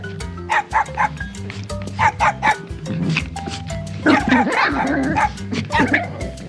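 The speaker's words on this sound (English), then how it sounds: "Dog." A dog barks in short bursts of repeated woofs, close and loud, followed by higher yips and whimpering before a final run of barks.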